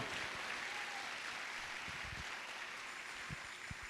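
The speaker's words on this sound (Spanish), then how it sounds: "Si lo crees, da un fuerte aplauso" Congregation clapping at a Spanish-language church sermon, a faint, steady wash of applause with a few sharp low thumps, heard from a distance.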